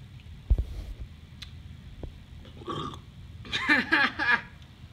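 A man burps after eating bananas and drinking Sprite, with a few low guttural belches close to the microphone amid quiet room noise, ending in a longer, rougher burst.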